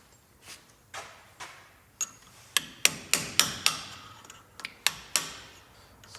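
A grease cap is pressed back onto a Mitsubishi Mighty Max front wheel hub with a series of sharp metallic taps, about a dozen close hits quickening in the middle, no voices.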